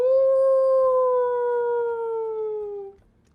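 A single long, clear canine howl rises strongly, then slowly bends downward in pitch, holding for about three seconds before cutting off into quiet.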